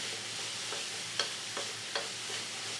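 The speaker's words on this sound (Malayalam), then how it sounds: "ഇതെല്ലാം ഇട്ട് കൊടുക്കാം കുറച്ച് തേങ്ങ ആവശ്യത്തിനുള്ള ഉപ്പ് നല്ലതായിട്ടൊന്ന് ഇളക്കി കൊടുക്കാം" Urad dal, grated coconut and salt stirred in a hot pan over low flame, giving a soft steady sizzle with a few light spoon scrapes and taps spaced about every half second, close and alone.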